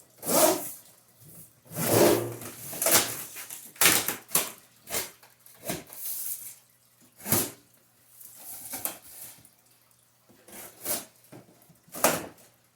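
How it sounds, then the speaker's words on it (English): A utility knife slices open a cardboard box in a series of close, sharp scraping and tearing strokes with pauses between, along with rustling cardboard handling. "I have my trusty utility knife here, and we're just going to go ahead and open up this box."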